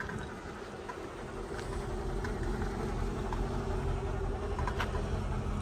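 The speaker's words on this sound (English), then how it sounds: "There's also some noise going on because this car has a misfire and the check engine light is on." A 2003 Mercedes engine idling with a misfire, a steady close broadband drone with a slightly uneven low pulsing throughout, no talking.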